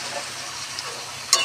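Boiled raw jackfruit stirred into a frying spice masala with potatoes, a soft continuous sizzle with light scraping, ending in a brief sharper clatter.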